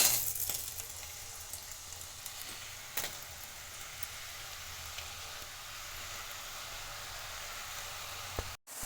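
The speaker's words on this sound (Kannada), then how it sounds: "ಇವಾಗ ಕರಿತಾ ಇದೆ ಎಣ್ಣೆ ಬಬಲ್ಸ್ ಬರ್ತಾ ಇದೆ" Chakli fries in hot oil with a soft continuous bubbling sizzle at low level, a few faint clicks scattered through the steady hiss, and no voices.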